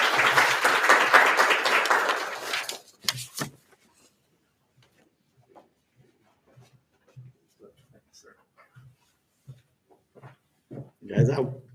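Audience hand clapping at a graduation ceremony, a dense burst of applause for about three seconds that stops abruptly, followed by quiet room sounds and scattered small noises.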